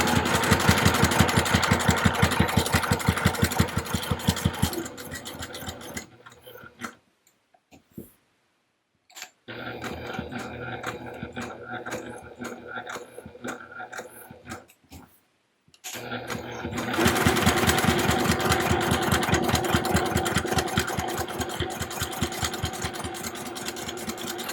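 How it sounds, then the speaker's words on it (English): A sewing machine top stitching the finished edges of a small zip-around wallet whirs in long, loud, rapid runs, with a brief stop and slower, lighter stitching in the middle. "now you want to top stitch along those finished edges using a 1/4 inch seam allowance"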